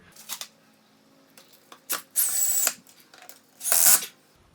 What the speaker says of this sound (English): I think I need to drill a little bit deeper.